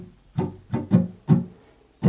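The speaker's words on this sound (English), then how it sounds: "muting the strings just so you can hear the pattern." A guitar strummed with muted strings in a basic down-down-up-up-down-down pattern for a campfire song, giving dull percussive chucks in an uneven rhythm, close and fairly loud with no talking.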